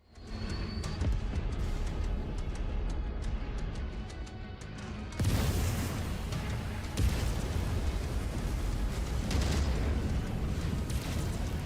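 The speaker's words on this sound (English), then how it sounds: "Waste of ammo, but hey, I like to fire my cannons to hear my own ears ring." Mech cannons fire in the video game MechWarrior 5, heavy booming blasts giving a dense, loud roar with a sharp jump in intensity midway and a sustained rumbling wash after it.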